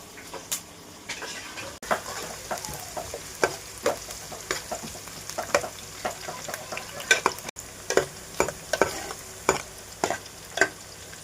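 A fish curry with onion cooks in a pan, giving a continuous close sizzle with a run of irregular stirring scrapes and knocks, and no one speaks.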